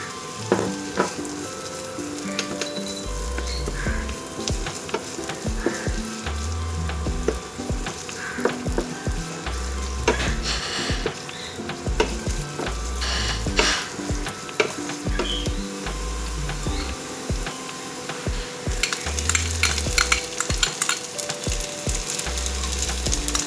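A large onion fries in hot oil and butter, sizzling steadily and loudly throughout, with frequent clatters and scrapes from a spoon or spatula and occasional louder crackling bursts.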